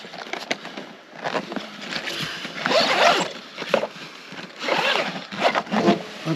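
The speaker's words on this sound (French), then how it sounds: "vous avez une poche parapluie ou pic avec une double fermeture, un double accès" The zipper of a Preston fishing rod sleeve's double-access umbrella pocket is pulled open and shut in several close, rasping runs of varying length, heard alone without speech.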